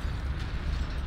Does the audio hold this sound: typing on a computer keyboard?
no